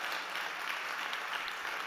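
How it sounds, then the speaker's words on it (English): Dense, even applause from a startup stage audience at South Summit, continuous and fairly distant. "Can we get a big round of applause for all of our startups?"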